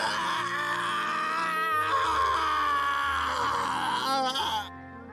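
Battler, a character in the visual novel game Umineko When They Cry, lets out a loud, strained howl of pain and anger, one sustained wailing cry of about four and a half seconds that cuts off abruptly.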